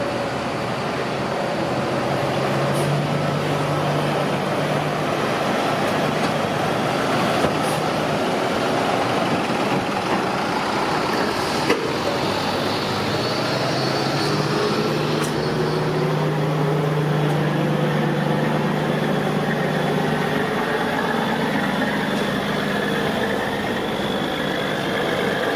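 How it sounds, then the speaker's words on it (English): A car hauler truck idles near a ferry terminal with a low, continuous engine rumble, joined by passing traffic swells and faint background activity, no clear talking. "Car hauler there."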